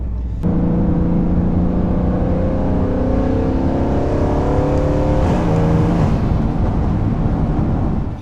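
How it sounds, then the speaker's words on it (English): Mercedes-AMG C63 S V8 driven on an open road, a loud sustained engine drone heard from inside the car, pitch rising steadily through acceleration with a gear change partway through. "Oh, I love this transmission. This is like downshifting perfectly."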